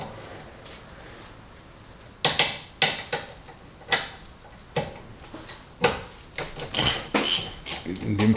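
A ratchet fitted with a 7 mm hex socket works loose a rear brake caliper bolt on a BMW Mini, producing a series of irregular sharp metallic clicks and knocks after a quiet start.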